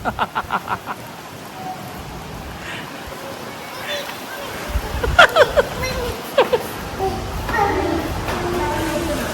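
Heavy unseasonal rain with strong wind during a storm in Talegaon makes a broad, steady wash of noise, with a few brief knocks early on and bursts of voices partway through.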